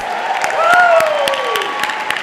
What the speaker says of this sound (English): President Obama, let's give him another applause.